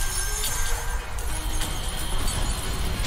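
Icy crashing burst of the Max Hailstorm move in Pokémon Sword & Shield, a dense glassy shattering texture that sustains steadily for about three seconds at moderate loudness with no voice over it.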